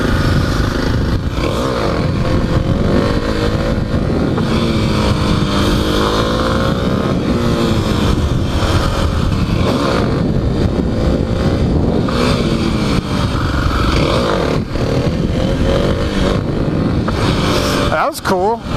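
A Kawasaki KLX300 dirt bike ridden during beginner wheelie practice in a suburb, its engine droning loud and continuous with rising and falling revs and wind buffeting, heard close from the rider's position.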